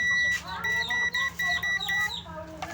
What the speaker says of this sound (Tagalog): Pakinggan na lang natin yung tunog ng buzzer.